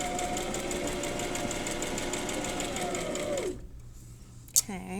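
A sewing machine stitches fabric strips onto a quilt square with a steady, fast, even whir, then runs down and stops, followed by near-silence and a sharp click.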